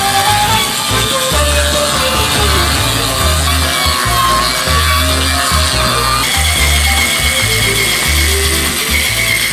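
Bosch Universal Brush cordless power scrubber grinding steadily against limescale in a sink, a loud continuous whirring motor with rapid rattling, close and unbroken throughout.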